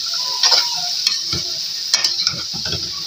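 Okra frying in a spice masala in a pan, with a steady sizzle and a few scraping stirs of a spatula close by.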